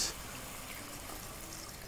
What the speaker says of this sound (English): about half a cup of water